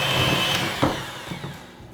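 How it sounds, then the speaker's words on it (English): A hand mixer creams sugar, butter and vanilla extract for chocolate cookie dough, giving a steady close whirring hum with a faint high whine across the whole two seconds, slightly easing toward the end. "we're going to take a hand mixer and go ahead and mix this"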